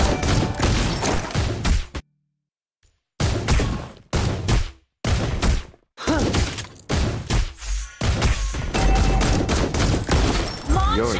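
Rapid bursts of gunfire and impact effects from Granger in the Mobile Legends game, loud and dense, broken by brief silent gaps, with game voice lines mixed in.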